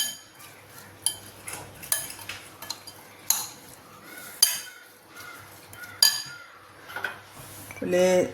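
Spoon clinking and scraping against a bowl while onion salad is mixed with salt, a series of sharp metallic taps and stirs at close range, with no talking.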